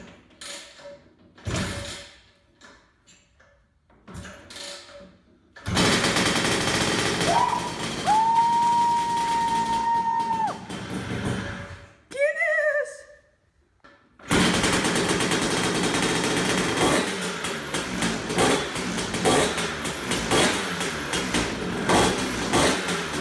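An LML Star 150 scooter engine with a Polini 187 kit is kicked over. Sparse mechanical clunks come first, then the engine catches and runs as a loud, rattling two-stroke buzz. A brief gap follows before it revs steadily again.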